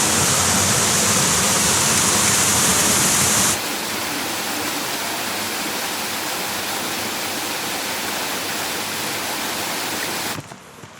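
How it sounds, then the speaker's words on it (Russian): Steady, dense rushing water from a waterfall at La Cumbrecita, Argentina, roars continuously at close range, shifting slightly in tone partway through, then cutting off abruptly near the end. "спустились мы к водопаду"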